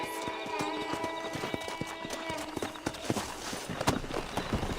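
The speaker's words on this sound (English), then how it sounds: "let's see if we can't wrangle some horses." Horses in the Red Dead Redemption video game clip-clop with steady, rhythmic hoofbeats close by, with a whinny rising over the trotting and a voice briefly speaking.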